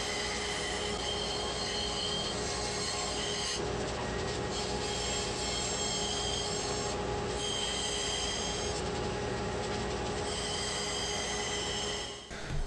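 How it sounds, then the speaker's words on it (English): A bandsaw cuts out a mount piece for a DIY CNC router, giving a steady, close, high-pitched whining rasp that runs continuously for about twelve seconds with only slight dips. "I can then bring it over to the bandsaw and finish cutting out the final shape"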